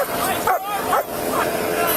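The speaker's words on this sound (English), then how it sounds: "you're gonna get bit by a dog!" Police dog barking during a tense traffic stop after a domestic dispute, several sharp barks repeating roughly every half second beneath continuous shouting and background voices.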